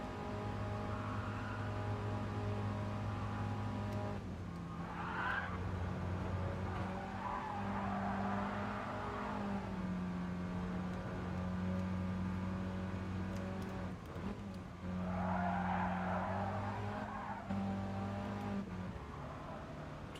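A Mini race car in a sim-racing battle at around 165 km/h, its engine droning steadily at high revs while tires squeal and skid in several bursts, with faint shifts in pitch.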